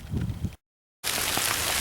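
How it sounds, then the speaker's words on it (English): Rain falls outdoors during a winter trapping outing, a steady broadband patter cut off by a brief gap of silence before it resumes louder and denser. "I'm gonna make this quick because it's raining pretty good now"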